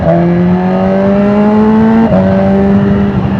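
A BMW S1000RR motorcycle engine hums steadily at idle as the clutch is pulled and first gear is engaged, with a small sudden dip in pitch partway through, close and loud with no talking.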